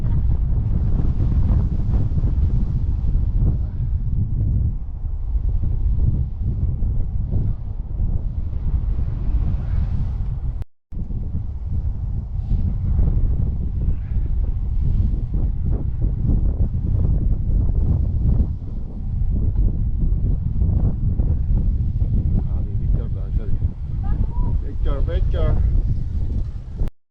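Strong, cold wind buffets the microphone in a loud continuous roar outdoors on a pedal tricycle ride, broken by one brief dropout, with people talking faintly underneath.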